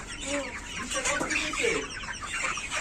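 Chickens at a market cluck and squawk in a busy, overlapping cluster, close and continuous, with a faint hum of people in the background.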